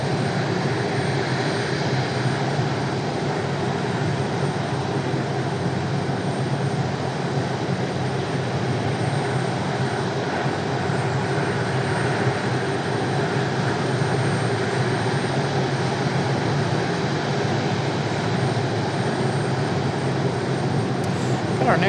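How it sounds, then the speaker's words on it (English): An airliner arriving from Houston at Raleigh Durham airport gives a continuous, even engine rumble and roar that stays loud and unbroken from start to finish. "Our next arrival, that one from Houston, coming right now."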